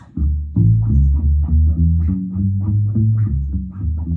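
A deep, round bass line from an electric bass set to an upright tone plays a walking pattern of short, thumpy notes with a soft attack and quick decay, alone and close.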